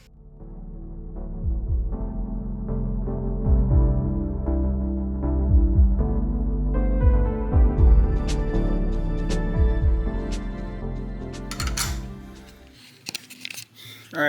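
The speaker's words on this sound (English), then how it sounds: "I'm just going to put it on the mill, clean it up a couple times" A milling machine cuts into a cast scrap-brass piece, giving a steady mechanical hum with repeated rhythmic chattering thumps. It grows busier and more metallic toward the end, then stops abruptly into a few faint clicks.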